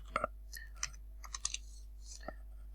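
A computer keyboard taps out a handful of scattered keystrokes while a formula is entered into a spreadsheet, quiet and close with short gaps between presses.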